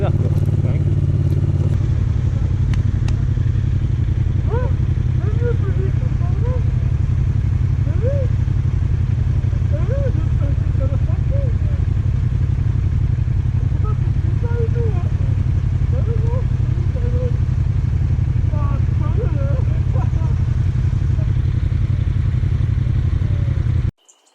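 A GT 07 enduro motorcycle engine runs steadily and loudly up close, a dense low drone with a brief surge at the start, while muffled voices come through faintly under the engine noise.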